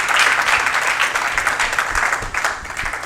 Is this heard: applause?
yes